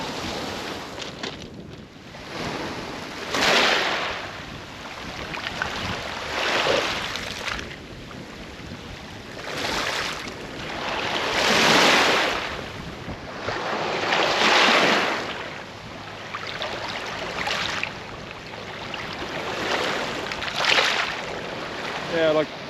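Wind gusts sweep across an open, bright, flat coastline, rising and falling in broad surging waves of rushing noise with buffeting against the microphone, and a voice speaks faintly at moments.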